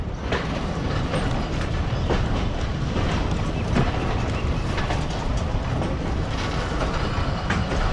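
Steady rumble and rhythmic clickety-clack of a train running on rails along the Nangal–Bhakra route, loud and continuous from the passenger's seat as it pulls out of a station.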